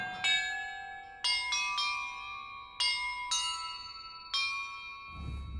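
Chimes of bells in Hogwarts Legacy ring out one after another in an irregular sequence, seven clear bright strikes each with a long decaying tail, ending in a brief low rumble.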